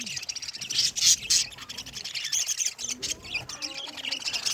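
Lovebirds chirp and tweet in quick, overlapping bursts, a busy flock twittering close by with brief pauses between flurries.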